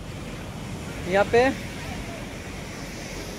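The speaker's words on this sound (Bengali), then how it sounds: "সমুদ্রের ঢেউ সত্যি অসাধারণ। যা ঢেউ আসছে এখানে" Sea waves wash onto the beach at Vizag as a steady roar of surf and wind. A voice speaks briefly near the middle.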